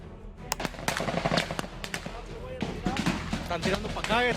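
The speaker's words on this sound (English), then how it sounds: "It was a fierce battle, as gunshots kept resounding sporadically." Sharp cracks and bangs of gunfire, irregular and sporadic, some bursts close together, with voices faintly audible underneath.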